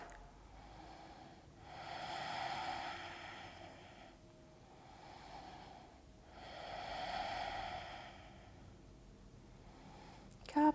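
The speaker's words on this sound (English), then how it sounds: "Longer, smoother, softer breath." Slow, deep yoga breaths, each long inhale and exhale swelling and fading in a smooth rhythm, close and soft, with a brief sharp sound at the very end and no talking.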